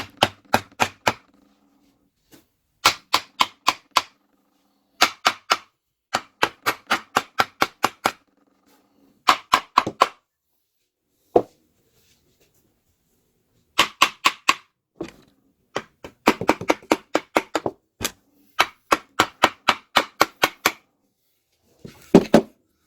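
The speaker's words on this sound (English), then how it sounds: "So brass hammer, so I don't fuck up the case." Sharp metallic brass hammer blows on a 1969 VW Beetle transmission case in quick bursts of several strikes, separated by short pauses, close and loud.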